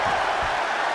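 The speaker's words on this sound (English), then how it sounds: "The sound of this crowd is deafening, and he's asking for more." A wrestling crowd around the ring roars in a dense, sustained wash of cheering, loud and close for a brief moment.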